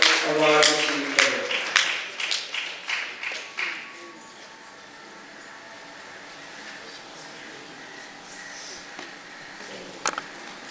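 Applause from an audience at a 50th jubilee award ceremony, a burst of rhythmic clapping that fades after a few seconds into quiet room noise with a faint tap near the end.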